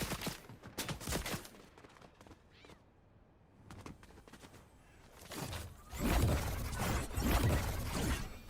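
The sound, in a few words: gunfire from another player in Fortnite, video game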